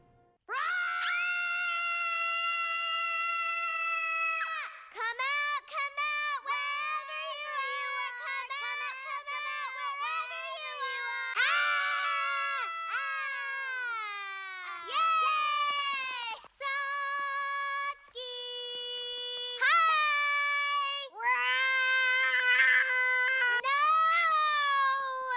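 Children scream, shout and cry in the animated film My Neighbor Totoro, with long, loud, high-pitched wails and sobs that break off and resume again and again across the scene.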